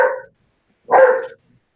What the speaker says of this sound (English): I hear a German Shepherd.